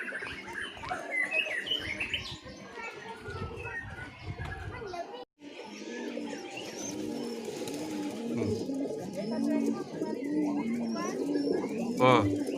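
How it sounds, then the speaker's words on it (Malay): Thousands of pigeons at a large flock site in Jantho, Aceh Besar, coo in dense overlapping rhythmic calls mixed with chirps, and a person talks over the flock throughout. "Merpati banyaknya."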